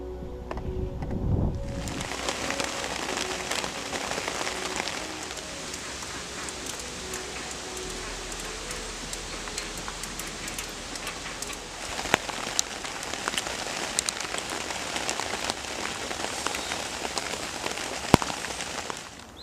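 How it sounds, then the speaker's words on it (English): Constant rain downpour at a carp fishing lake, a dense steady hiss of drops on surfaces with occasional louder taps, continuous and close. "The rain arrived and we had a few hours of constant downpour"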